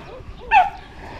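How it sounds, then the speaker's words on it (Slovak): A guard dog near a goat pen on Bantayan Island in the Philippines gives a single short, sharp bark at moderate distance, standing out briefly over low background murmur. "Tam už na mňa šteká pes."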